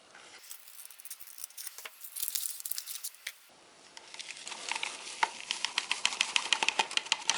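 Scissors snip through a foil drink packet from a 2016 Canadian Individual Meal Packet ration, heard close up as a string of short, crisp cuts and crinkles, quiet and without talk.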